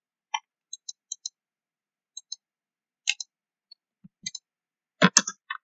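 A computer mouse clicking while drafting in AutoCAD, a string of sharp, dry, close clicks spaced irregularly, some in quick pairs, with a few louder taps near the end and silence between.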